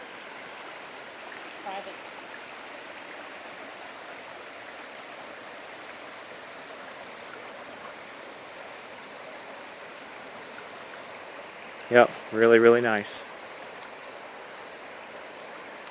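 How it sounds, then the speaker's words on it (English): Creek water churns steadily like a small waterfall in a rustic wooded spot, a continuous broadband rush heard from a short distance below; someone speaks briefly near the end over the flow. "It almost sounds like a little waterfall back through there."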